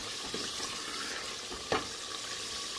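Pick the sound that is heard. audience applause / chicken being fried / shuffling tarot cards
chicken being fried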